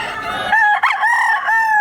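A fighting rooster crows at a pet market, one loud, close crow with a long drawn-out final note that follows a short burst of squawking.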